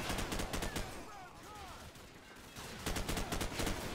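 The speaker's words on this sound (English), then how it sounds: "There's like 3 people in a window. Firing rifles." Rifle fire in Call of Duty 4: Modern Warfare, rapid bursts of automatic gunshots at the start and again near the end, separated by a quieter stretch of distant battle noise.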